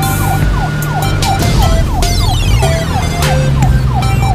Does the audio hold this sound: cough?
no